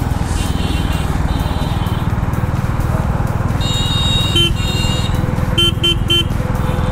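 Several short horn toots from a Royal Enfield Classic 350 motorcycle sound in bursts over a constant engine rumble and road noise, fairly close and loud.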